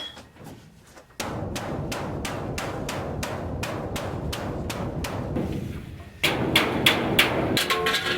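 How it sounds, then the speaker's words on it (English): Rapid, steady hammer blows knock old parts out of a furnace, a loud metallic pounding that runs without pause for several seconds, then carries on louder and brighter after a brief lull. "So I'm ready to start hammering stuff out of here."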